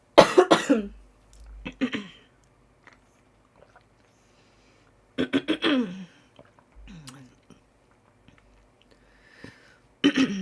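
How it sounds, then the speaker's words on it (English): Two clusters of harsh, close coughs and throat clearing, separated by quiet pauses, with a final short cough at the end. "Excuse me, I'm going to cough."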